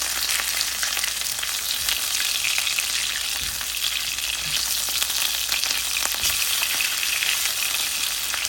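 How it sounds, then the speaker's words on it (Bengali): Hilsa fish fries in a pan, a loud, continuous close-up sizzle with faint crackles that holds steady throughout. "আমার এক পিঠ ভাজা হয়ে গিয়েছে, এখন আমি এটাকে উল্টিয়ে দিচ্ছি"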